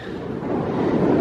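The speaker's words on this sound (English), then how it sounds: "It's windy" Steady wind buffets the microphone on a seaside cliff overlooking the ocean on Martha's Vineyard, a continuous low rumble that builds slightly toward the end, with no voices.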